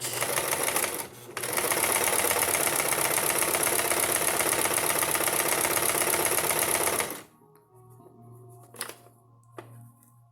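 A continuous, fast mechanical whir from a sewing machine back-stitching a fabric face mask runs for about seven seconds with one brief dip, then stops abruptly, leaving quiet room sound and a few soft handling knocks.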